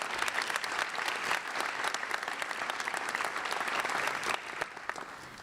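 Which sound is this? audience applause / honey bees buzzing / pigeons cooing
audience applause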